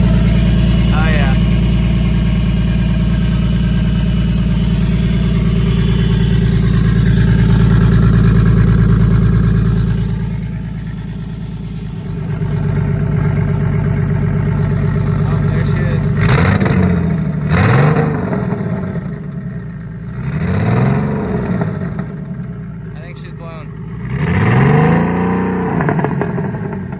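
A turbocharged BMW M54B30 inline-six running lean on five cylinders and shaking: a rough, loping idle rumbles close by, then several sharp revs rise and fall in quick succession.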